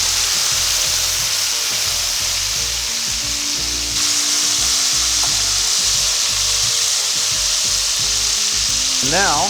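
Shrimp sizzling as they fry in a pan for shrimp and grits, a loud continuous crackling hiss close by, with a single brief spoken word near the start.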